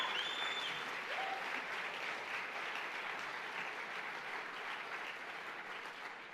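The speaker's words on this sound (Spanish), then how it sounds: "Dale un aplauso a Dios," A church congregation applauds steadily and loudly for several seconds, a dense, even wash of clapping from a large indoor crowd that fades slightly toward the end.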